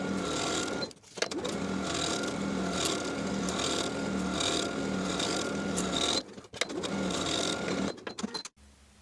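A sewing machine stitches the outer and top edges of a shirt collar, running in steady whirring bursts with brief pauses between stretches and a stop near the end.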